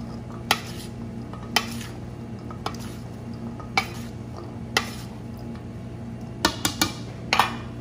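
Chickpea and white bean salad tossed in a bowl, a series of sharp clinks and scrapes of utensils against the bowl, irregularly spaced and close by, clustered toward the end.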